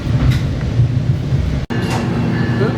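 Manifest freight train rolling past near the Hammond Gateway Depot, a steady loud rumble of railcars with rhythmic wheel clatter continuing throughout, briefly cut by a sharp dropout.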